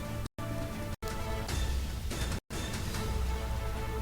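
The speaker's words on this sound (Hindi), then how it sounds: "दिल्ली के कई हिस्सों अब भी हो रही है बारिश।" Heavy rain during a storm in Delhi, a loud, dense wash of falling water broken by a few abrupt cuts.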